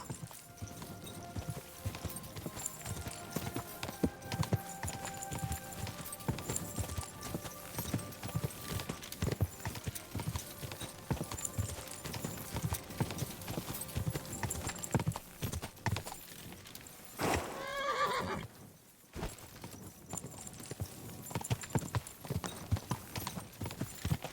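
Steady clip-clop of horse hooves at a trotting rhythm in the video game Kingdom Come: Deliverance 2, fairly loud, continuing throughout with a brief whinny-like burst partway through.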